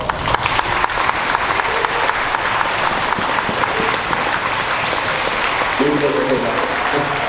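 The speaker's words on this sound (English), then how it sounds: "Please give them a round of applause." Audience applause at an Orange Shirt Day gathering, a sustained dense wash of clapping from a crowd, steady and fairly loud, with a few voices murmuring underneath toward the end.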